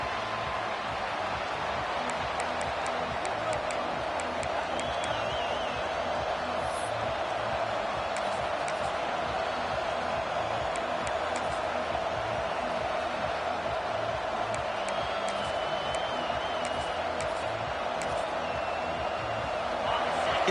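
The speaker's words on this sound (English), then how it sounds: "It's early, but this crowd is fired up. Listen to this noise here." Dense, steady roar of a large football stadium crowd at a college football playoff game, a continuous wash of cheering and noise that holds loud throughout with no clear breaks.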